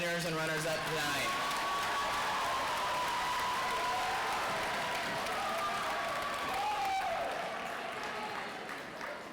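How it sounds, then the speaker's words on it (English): Applause from a banquet audience for state convention award winners and runners-up, a sustained wash of clapping heard fairly faint under a speaker's voice for most of the span. "Let's give one more round of applause to all of our winners and runners-up tonight."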